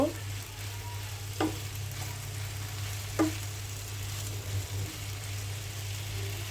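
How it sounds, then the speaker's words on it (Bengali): Garlic, onion and cumin paste frying in a pan for bitter gourd fry: a steady close sizzle, broken by two or three sharp knocks of a spoon against the pan, over a low hum. "ভালো করে একটু মিক্স করে নেব।"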